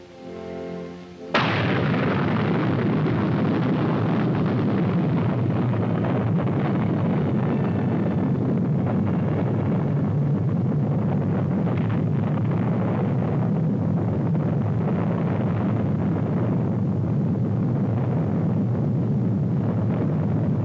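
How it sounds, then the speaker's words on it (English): An H-bomb detonating at Eniwetok: after a brief low murmur, a sudden loud blast gives way to a dense, sustained rumbling roar that continues unbroken for nearly twenty seconds, with no voices. "the most terrible of all the weapons that man has ever built, the H-bomb, was detonated at Eniwetok"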